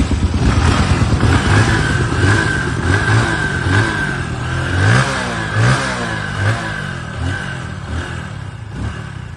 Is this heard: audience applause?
no